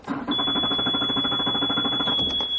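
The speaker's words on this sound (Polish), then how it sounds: "Uruchamia się natrętny alarm, że nie mamy zrywki bezpieczeństwa, silnik nam nie odpali." A steady, high-pitched electronic alarm tone rings continuously up close, insistent and unbroken for a few seconds: the warning that the engine's safety kill cord is not attached, so the engine will not start.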